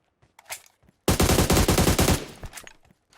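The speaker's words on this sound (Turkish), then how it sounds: "Dışarıdan da sıkıyorlar kanki galiba." A sustained burst of automatic gunfire from a PUBG Mobile match lasts about a second, loud and rapid, with faint scattered shots before and after.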